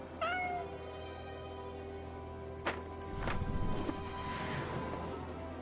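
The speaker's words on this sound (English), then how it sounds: "Why did I hear a cat?" A cat meows several times close by during a live stream, the first cry clear and drawn out and later ones shorter, over a steady background hum with a few clicks and taps.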